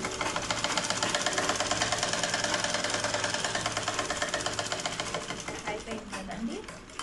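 A sewing machine stitching a blouse runs in a rapid, even mechanical rhythm that holds close and clear, then eases and slows near the end.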